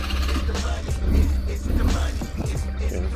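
A motorcycle on a Baja desert ride running close by, its engine giving a steady low rumble that rises and falls slightly, mixed with wind buffeting and rattling noise.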